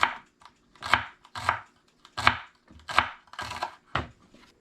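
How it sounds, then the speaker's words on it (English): A knife chops a vegetable into tiny pieces for a chopped summer salad, about eight close, firm thuds on a cutting board at a steady, slightly uneven pace, with no talking. "we're going to go ahead and split this down the middle. And just like with the onion, make tiny pieces."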